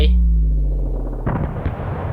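Gunshots in the Friday Night Funkin' rhythm game: one loud booming shot with a long decaying rumble, followed by a second rougher burst, close and heavy.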